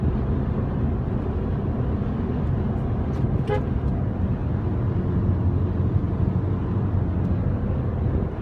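A Lexus passes on a road in northern California amid a steady roar of traffic, and a short horn toot sounds partway through.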